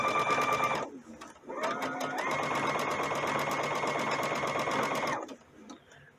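A Brother sewing machine stitches a blind hem with a fast, even mechanical whir heard close up. It makes a short run, pauses briefly, then runs steadily for several seconds before stopping.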